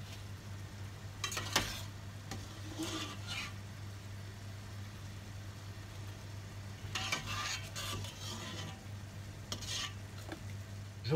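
Gnocchi stirred in a pan sauce beside duck breast with honey, soft sizzling under a low hum, broken by a few short bursts of scraping and stirring near the start and again later.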